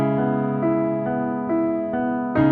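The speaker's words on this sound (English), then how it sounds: "So if we're kicking off our verse, it sounds like this:" Piano playing the opening verse of a song, with steady repeated chords struck in an even rhythm, clear and close, without any voice.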